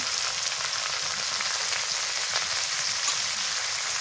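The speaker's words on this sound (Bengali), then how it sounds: "পেঁয়াজ ভাজা হয়ে গেছে, টমেটো কুচি দিয়ে দিই" Chopped tomato and chili powder fry with browned onions in a pan, giving a dense, steady close-up sizzle like light rain, with only faint stirring and no voices.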